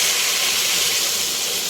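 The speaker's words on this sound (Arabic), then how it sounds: "انا سخنت المي ورح اضيف عليهم" Heated water poured onto rice in a cooking pot for Yemeni chicken mandi, a steady bright hissing pour held close and continuous for under two seconds, with no talking.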